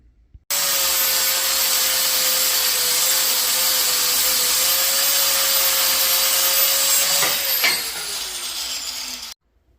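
A steel horseshoe being cut in half during a trailer BBQ smoker build, a steady loud grinding whine with a sustained tone that holds for several seconds, then drops in pitch and fades out near the end.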